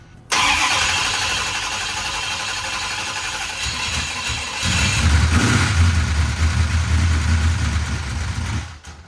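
A restored 1968 Dodge Charger engine cranks and catches, then runs steadily, growing louder and rougher midway as it is revved before shutting off.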